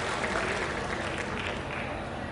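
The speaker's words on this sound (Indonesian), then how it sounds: "Tepuk tangan untuk beliau." Steady applause from an audience at an international vocational seminar, dense and even throughout, with a faint murmur of the crowd beneath the clapping.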